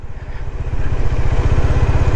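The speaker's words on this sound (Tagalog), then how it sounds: "tumutunog na yung fan ng aking motor." A motorcycle's cooling fan gives a steady mechanical whir, low and droning with a slight pulsing rhythm, growing a little louder as it runs.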